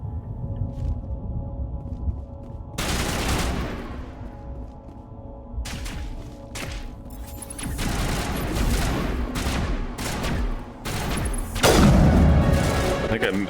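Gunfire and grenade explosions from Mass Effect Legendary Edition combat, with bursts of sharp shots and several heavy booms spread across the stretch, loud and close under occasional talk.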